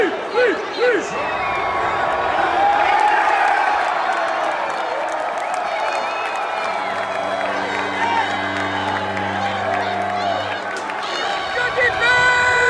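Spirited football crowd at a San Diego Fleet game cheering and roaring continuously, a loud, dense wash of voices with whoops and shouts, and a sustained low horn-like tone swelling through the middle.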